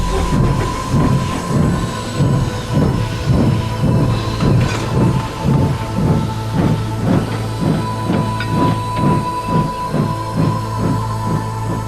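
A toy train engine puffs steadily along its track in a fast, regular chugging rhythm with clattering wheels and a faint steady whistle-like tone, loud and close throughout with no talking.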